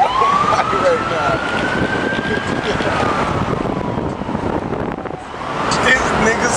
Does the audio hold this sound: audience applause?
no